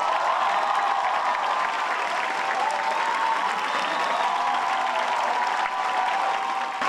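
A theatre crowd at a musical theatre celebration applauds continuously, a dense, even wash of many hands clapping at full strength for the whole stretch, with faint cheering mixed in and no talk.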